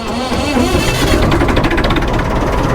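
A road roller's heavy engine idles loudly and close by in neutral, a constant low rumble with a slightly uneven, throbbing vibration and no voices.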